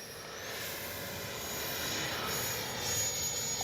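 A Freewing 90mm Zeus RC jet makes a low, slow pass, its ducted-fan whine and rush holding steady and slightly swelling over a few seconds, heard from a moderate distance outdoors.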